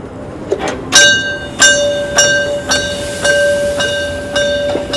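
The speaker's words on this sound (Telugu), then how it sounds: "ఏంటయ్యా గుళ్ళో గంటలు కొడుతున్నాయి." Bells ringing near a small train ride at a park in Augsburg, Germany: repeated bright, clear bell strikes with ringing tones, about eight hits in an uneven rhythm, fairly close and loud.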